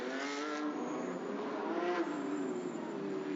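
Porsche Carrera Cup race cars roll onto the starting grid at the Zhuzhou circuit in a steady engine drone, heard at a distance without any talk.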